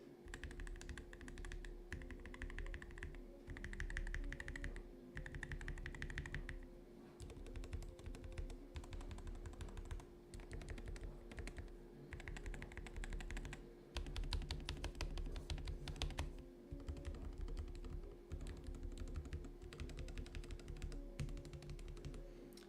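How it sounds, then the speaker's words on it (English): Single keys are struck one at a time on a stock-build Knob One mechanical keyboard: a close, quiet run of crisp clacks in short bursts with brief pauses, over a faint steady hum, with no talking. "I'll do like a just single key type test so you guys can get a feel for like the single keys"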